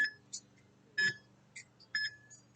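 A workout interval timer for a Tabata session gives a series of short electronic beeps, about five evenly spaced chirps, clear against a quiet background.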